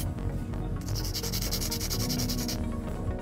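A 100 grit nail file rasps back and forth over acrylic nails during a fill, a close, gritty rubbing with a brighter, faster burst of short strokes in the middle.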